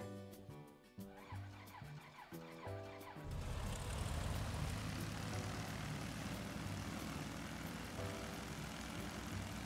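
A twin-engine BN-2 Islander in a flight simulator cranks its propeller engine, which catches and settles into a loud, steady droning roar that carries on to the end with no talk over it.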